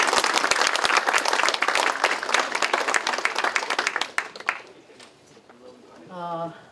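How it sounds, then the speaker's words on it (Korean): Applause from lawmakers at a Democratic Party caucus meeting, dense and loud for about four seconds, then fading into quieter room noise with a voice starting to speak near the end. "2017년 격동의 한 해를 최선을 다해 주신 의원님께 박수로 화답을 하겠습니다"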